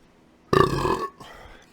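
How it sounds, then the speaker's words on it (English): A single loud, close burp lasts about half a second and trails off into a softer rumble. No one talks over it. "That burp is a lot better."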